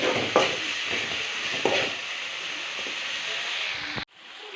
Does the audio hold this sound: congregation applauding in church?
no